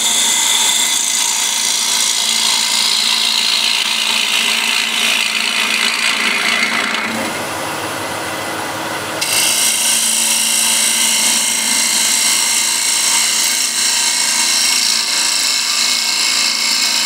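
A gouge cuts wood spinning on a lathe, giving a loud continuous hissing scrape with a steady motor hum beneath, broken by a short quieter lull partway through before the cutting resumes.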